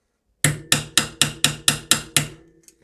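Eight sharp metal hammer blows on a bolt of a Bafang mid-drive motor on a Specialized Fuse e-bike, struck in a steady, evenly spaced series, loud and close with ringing decay, then a faint tap.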